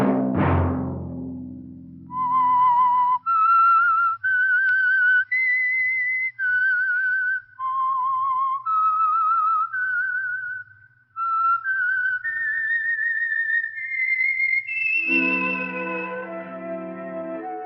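A clear whistled melody of sustained notes stepping up and down, solo and near, opening after a soft plucked chord and ending on a held chord; the signature theme of the radio drama The Whistler.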